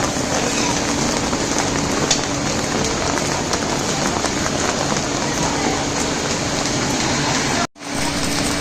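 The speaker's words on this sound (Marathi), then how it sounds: "त्या वाळूमध्ये भात टाकतात आणि भाजून घेतात थोडासा रोस्ट करतात" Rice roasting in hot sand in a traditional rural rice mill, a steady dense hiss and crackle like rainfall throughout, ending with a brief abrupt cut near the end, no talking.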